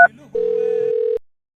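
Steady telephone dial tone heard on an outgoing call to a village headman, a single continuous tone lasting nearly a second, following a short burst of speech, then silence.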